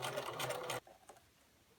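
A sewing machine stitches quilt squares with a quarter-inch seam, running loud and steady for under a second before stopping abruptly, leaving quiet room noise and a faint click.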